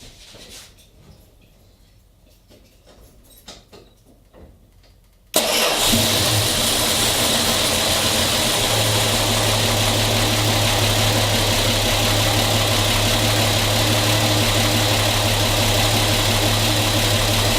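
A car engine cranks and catches after a quiet stretch, then settles into a loud, steady idle close by, with a sticky throttle on an amateur-repaired car.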